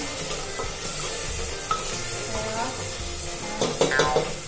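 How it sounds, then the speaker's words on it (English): Onions frying in a pan for masoor dal, with a steady close sizzle, stirring scrapes, and a few light metallic clinks of utensils near the end, with no talk. "Just fry until your onion turns into brownish in color."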